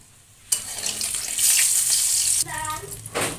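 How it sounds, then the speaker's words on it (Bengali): Eggs fry in a pan with a sudden hiss as they hit the oil, then a steady bright sizzle that shifts and bubbles near the end, close and fairly loud with no talk. "এখন ডিমগুলো ভেজে নেব"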